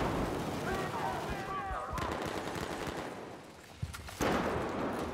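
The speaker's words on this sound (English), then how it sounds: "Probably gonna die because I can hear gunfire up here." Gunfire in Battlefield 4 on the Pearl Market map: bursts of automatic rifle shots and sharp cracks, some distant and some close, with players talking over the game audio.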